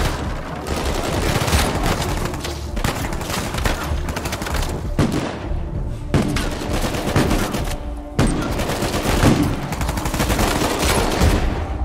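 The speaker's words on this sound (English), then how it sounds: "One shot from the sniper." Gunfire from a firefight in the PC version of Uncharted 4, including sniper rifle shots, comes as repeated loud bursts and sharp cracks over a steady game soundtrack, with no speech.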